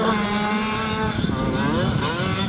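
Small 85cc race engine revving on the throttle, a high buzzing wail with rising and falling pitch, close and loud, a brief dip in the middle before it picks up again.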